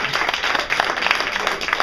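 An audience at a live game event breaks into brisk, dense clapping, loud and close, sustained for about two seconds with no talking.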